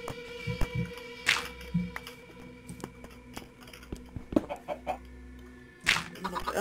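Chicken clucks from Minecraft pop up in short bursts, a few scattered calls with soft clicks and background game noise between them.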